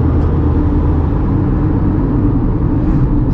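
Tata Punch AMT car pulling away on a city road, a loud, steady low engine and road rumble heard from inside the cabin, continuous with no breaks.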